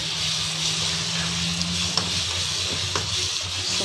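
Homemade chilli paste with lemon leaves sizzling steadily in a hot pan, a continuous close frying hiss with a few faint clicks and stirring taps, no talking.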